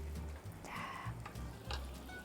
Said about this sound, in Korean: 이때 아까 좀 얇게 썰어 놓은 이 당근과 마늘을 넣어서 볶아주세요